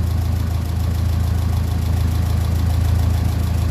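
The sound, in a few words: 1957 Ferguson 35 TVO tractor engine idling at 850 revs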